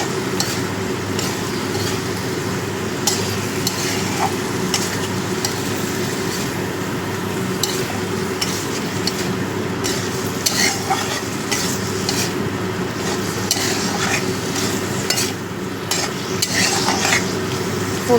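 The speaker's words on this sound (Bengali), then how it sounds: "পোস্তটা ভালো করে মিশিয়ে দিলাম।" Poppy seeds are stirred into spinach leaves frying in a pan, a continuous close sizzle broken by repeated scraping and clinking of the spatula against the pan, with no voices.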